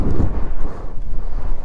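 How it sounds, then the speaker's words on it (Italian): Strong wind gusts blow on an open, green hillside, buffeting the microphone as a loud, continuous rumbling roar that surges and eases over a short stretch, with no voices. "arrivano delle folate di vento non indifferente"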